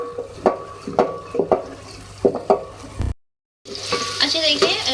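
Onions frying in oil with bay leaves, black cardamom and cinnamon pieces for a beef and capsicum curry, a steady sizzle broken by several scraping stirs, a brief cutoff, then a louder burst of sizzling.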